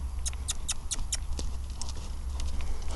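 Horse hooves at a stable clip-clopping in a quick run of sharp strikes, then softer scattered steps over a low rumbling background.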